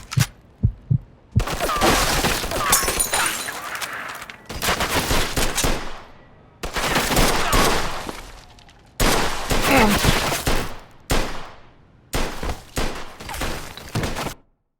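Gunfire in the video game Mafia 2, with bursts of rapid shots and short single bangs separated by brief gaps, loud and close.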